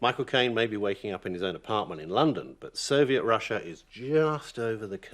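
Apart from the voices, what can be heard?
None of the usual background noises is heard.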